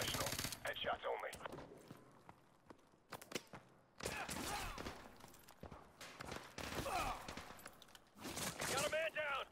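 Gunfire in Call of Duty Modern Warfare 2 Remastered during an Afghanistan campaign mission, bursts of rifle and machine-gun fire in uneven clusters separated by brief lulls, with soldiers' voices calling out between and under the shots.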